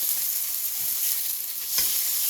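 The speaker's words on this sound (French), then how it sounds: "Et on va aller mettre la viande. Ça, c'est un petit bruit, je m'en lasserai jamais." Pork spider steak frying in a pan with fat, a steady close sizzle and crackle throughout, briefly flaring louder near the end.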